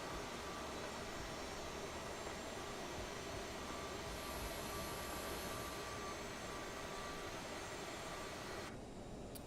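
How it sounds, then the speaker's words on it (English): Left jet engine of an Aerosoft CRJ regional jet spooling up during startup in Microsoft Flight Simulator, a steady broadband roar holding level throughout with a brief high whine partway through. "And left engine starting up."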